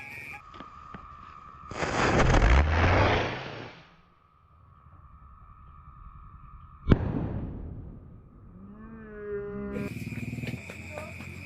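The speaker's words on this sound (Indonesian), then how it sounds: "Kita akan menyalakan petasan golden blitz." Golden Blitz firecrackers go off on a Ramadan night: a long roaring, crackling burst, then a sharp loud bang trailing into a fizzing decay, with other tones and voices around.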